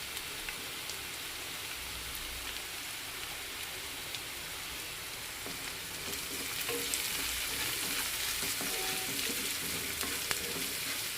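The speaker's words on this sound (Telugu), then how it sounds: "ఉల్లిపాయలు బాగా బ్రౌన్ కలర్ వచ్చేంత వరకు వేయించుకోవాలి" Onions with okra fry in oil for a Punjabi-style okra masala curry, a steady close rain-like hiss of sizzling that holds even throughout with faint occasional clicks.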